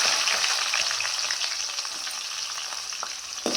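One large chopped onion fries in a pan until it turns lightly brown, giving a continuous close sizzle and crackle with a few soft stirring clicks and no talking.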